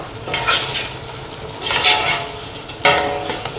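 A spoon stirs ginisang monggo, sautéed mung beans with bagoong shrimp paste, in a large pot, making three loud scraping, sizzling bursts against the metal with brief pauses between them and no talk.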